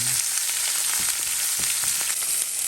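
Tomatoes, tomatillos and chiles de árbol fry in a pan, a bright, close, continuous hissing sizzle with a few faint stirring taps.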